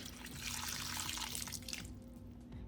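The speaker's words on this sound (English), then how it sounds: "This is one of the few plants that I do just like to dump the entire pitcher of water into" Water from a pitcher pours steadily into a potted house plant, a continuous close splashing rush that fills the moment and tapers slightly near the end.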